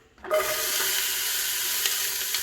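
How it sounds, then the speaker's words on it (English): Onions and garlic begin sweating in a pot on the stovetop, a sudden hiss after a moment of quiet settling into a steady, close sizzle with faint crackles. "I like to sweat my onions and my garlic before I start adding all my meat to it"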